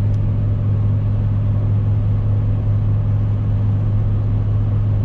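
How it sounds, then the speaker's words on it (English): Steady, loud diesel drone and road rumble from a 2017 RAM 3500 Cummins truck towing about 30,000 lbs as it speeds up downhill, a constant low hum with no talking. "here we are going downhill and the truck is speeding up"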